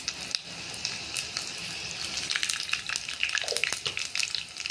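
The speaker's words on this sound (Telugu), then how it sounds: "చివరగా కొద్దిగా ఆయిల్తో తాలింపు వేసుకుంటే సరిపోతుంది." Spices tempering in a little hot oil for a brinjal chutney give off a soft, continuous sizzle and crackle with scattered small pops, fairly quiet and heard alone.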